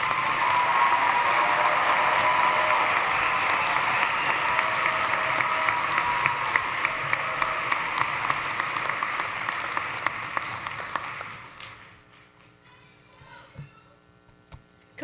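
Loud, sustained applause from a large crowd at a commencement ceremony in Gentile Arena, steady for about eleven seconds before fading into scattered claps and room hum.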